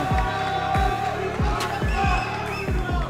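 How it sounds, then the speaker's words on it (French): A crowd at a Brazilian jiu-jitsu event cheers and claps after a match between two young competitors, a dense, steady roar of voices and applause, while a loudspeaker voice talks over it and heavy low thumps punctuate the noise at regular intervals. "Tonnerre d'applaudissements pour le g jeune espoir de BGG, les gars"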